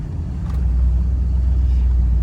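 Mercedes-AMG SL63 S E Performance hybrid roadster pulling out, its engine giving a deep, steady low rumble heard close from inside the car, loud and unbroken with no talk.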